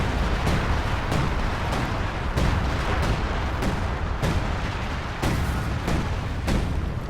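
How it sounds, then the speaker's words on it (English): Off-map artillery crashes down in Company of Heroes 2, a barrage of loud, sharp blasts roughly every half second to second over a continuous rumble, with no talk. "Very, very potent off-map artillery there"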